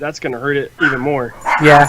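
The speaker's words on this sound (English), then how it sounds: "Sorry about the dogs, everyone." Dogs bark and yip repeatedly in short bursts, loud and close, mixing with people talking on a gaming podcast.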